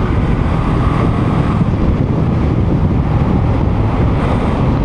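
Loud, steady wind roar buffeting the microphone, a constant low rumble with no gaps, from riding at speed on a Honda Rebel 500 motorcycle without a windshield.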